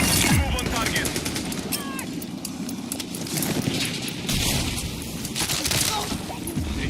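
Gunfire in Battlefield 6 on an icy map: dense rapid shots and bursts in a continuous chaotic barrage, loud and close throughout, mixed with other battle noise.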